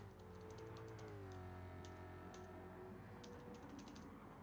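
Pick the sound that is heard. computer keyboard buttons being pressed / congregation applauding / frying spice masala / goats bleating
computer keyboard buttons being pressed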